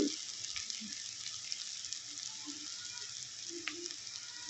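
Sliced onions in hot oil give a soft, steady sizzle close by in a home kitchen, with a few faint clinks and stirring scrapes as chili powder goes in.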